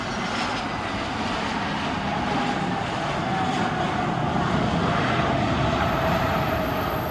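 Airplane landing at Cristiano Ronaldo Airport in Portugal, a steady loud engine roar with rushing air and a faint high whine, continuous throughout without voices.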